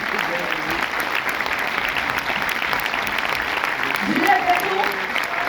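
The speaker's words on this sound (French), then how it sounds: "faire un tonnerre d'applaudissements pour mes comédiens qui sont avec moi ce soir" A theater crowd at a film premiere gives sustained, dense applause for the cast of Les Petites Victoires, steady and loud throughout, with faint voices mixed in.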